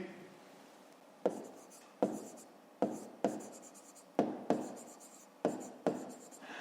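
Pen strokes on paper while working a grade-5 math exercise, a series of short scratchy bursts, each with a sharp start and quick fade, close and fairly clear over a quiet room.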